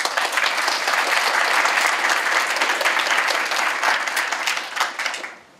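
Conference audience applauding to welcome a keynote speaker, a dense, loud burst of clapping sustained for about five seconds before quickly fading out.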